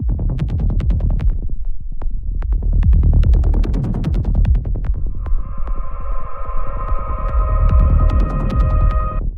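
A forest intro sound processed with Ableton's Grain Delay effect throbs in heavy, rhythmic low pulses with clicking grains, and a sustained pitched drone layers in halfway through.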